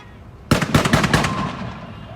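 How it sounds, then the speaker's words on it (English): A rapid burst of sharp fireworks cracks and bangs going off in quick succession after a brief quiet moment, loud and close, then trailing into a fading rumble with a voice audible beneath. "Oh, that's fireworks."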